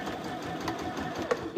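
A sewing machine runs steadily while top stitching a boxy bag, a continuous close mechanical whir lasting the whole moment with no voices.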